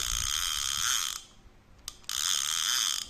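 Clicker on an old Abu Garcia Ambassadeur 7000 round baitcasting reel giving a loud, fast buzzing ratchet in two bursts with a brief quiet gap and a single click between them.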